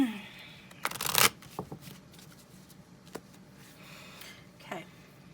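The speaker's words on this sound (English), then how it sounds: "let the shuffling commence." A deck of cards shuffled close by: a loud riffle burst followed by several softer snaps and taps of cards being squared and handled, with a quiet room behind.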